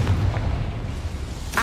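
Confringo, a fiery explosion spell cast in the Hogwarts Legacy video game, makes a steady low booming rumble that ends in a sharp, bright blast.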